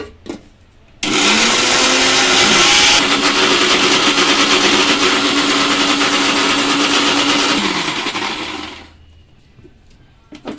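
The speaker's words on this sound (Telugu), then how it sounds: "ఇప్పుడు ఇవి మిక్సీలో వేసేసి" A mixer grinder whirs loudly for about eight seconds, blending roasted ingredients into a paste for chamagadda pulusu, starting abruptly and then winding down, with no talking.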